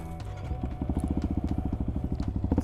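A Yamaha WR 155 R motorcycle idles and then revs close by. Its engine makes a rapid, steady, rhythmic pulsing that grows stronger partway through.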